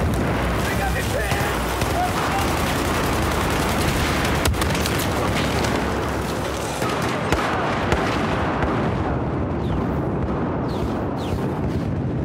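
Gunfire and grenade explosions fill the Battlefield 4 game, a continuous loud roar of shots and booming blasts with a sharp crack near the middle, while a voice talks over it.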